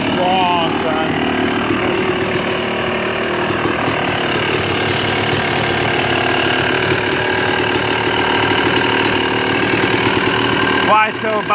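A Yamaha YZ250 two-stroke dirt bike engine runs after a full motor rebuild, a loud continuous buzzing idle with rattly mechanical chatter that holds steady throughout before a brief rev near the end.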